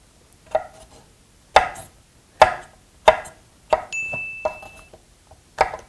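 A kitchen knife chops food into bite-size pieces on a cutting board, giving about eight sharp, close knocks at uneven intervals with a brief ringing tone partway through.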